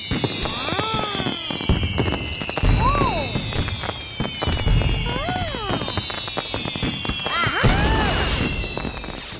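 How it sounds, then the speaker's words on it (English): Crackling bursts and booming pops go off repeatedly with whistling rising streaks between them, loud and chaotic like a fireworks display. "The fireworks in the sky were bright and colorful."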